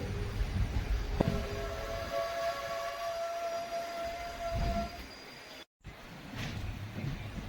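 An Intercity Express train pulls out of Thuravoor station after rain, a steady rumble of rolling stock with a sustained tonal hum and a brief dropout near the end, no voices.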